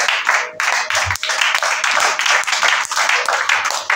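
A church congregation claps and cheers in a worship service, steady rhythmic clapping mixed with voices, loud and close for several seconds.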